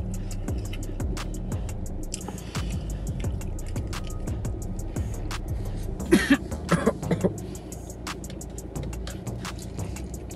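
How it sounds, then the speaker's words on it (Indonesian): A person coughs in a short cluster of three or four harsh bursts midway, over a low rumbling background and scattered clicks, fairly close, with no speech. "Kenapa aku batuk?"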